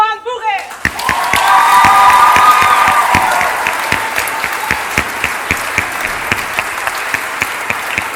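An audience at a secondary school awards gala bursts into loud, sustained applause with scattered whoops, then thins to a few lingering claps. A voice speaks just before it begins.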